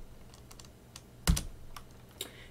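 A terminal command is typed on a computer keyboard with a handful of soft, scattered key clicks and one louder tap, quiet and close.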